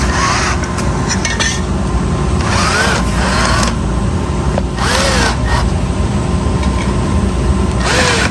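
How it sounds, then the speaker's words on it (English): Power drill boring through old soft aluminum on a Land Rover body, a continuous loud grinding drone with several short rising whines as the bit bites and eases, steady throughout and close by. "I don't like drilling that old soft aluminum."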